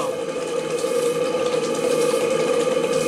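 A radio-controlled sternwheeler steamboat with a small steam leak chugs steadily, soft hissing of escaping steam, continuous, close and fairly loud, with no voices.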